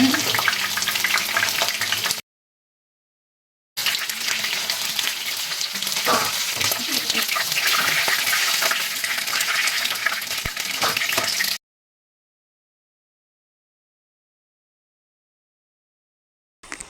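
Chilli chicken frying in a pan, with a steady, loud sizzle and crackle and some stirring. The sizzle runs for about two seconds, breaks off, runs again for about eight seconds, then cuts to silence.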